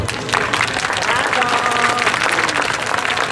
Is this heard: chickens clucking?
no